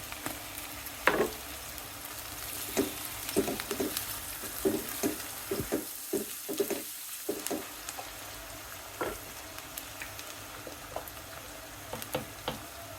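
Shrimp hit a pan of fried onions for a bitter gourd fry, a steady soft sizzle punctuated by repeated scraping and clacking of a spatula stirring close by.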